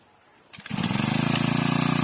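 Mächtz MGB-2504 GT petrol trimmer engine catching after a short pull, then running loud and close with a fast steady buzzing idle.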